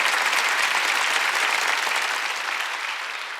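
A church congregation applauds at a midweek worship service. The clapping is dense and continuous and gradually fades over a few seconds.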